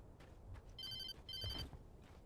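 A telephone rings in the video game Alan Wake: two short bursts of bright electronic ringing, faint and set against quiet ambience with no talking.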